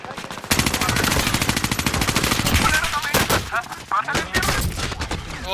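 Sustained rapid automatic fire from a Vargo 52 rifle in a multiplayer shooter video game: loud, dense bursts that run almost continuously with brief pauses between strings.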